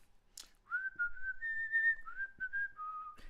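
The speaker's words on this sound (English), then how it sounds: "whistle?" A person whistles a short tune, a clear, close melody of a few sustained and gliding notes in a quiet room, with a brief breathy sound before it begins.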